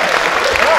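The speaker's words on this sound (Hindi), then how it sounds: "एक बार जोरदार तालियां वालियां बजा दें सर" A hasya kavi sammelan audience gives a short burst of loud, dense clapping at close range, with no break over the brief moment.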